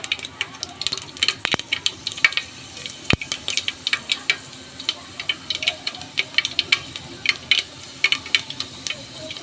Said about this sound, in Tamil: இப்போ கடுகு போட்டுக்கலாம் அது கூட கொஞ்சம் ஜீரகம் கொஞ்சோண்டு வெந்தயம்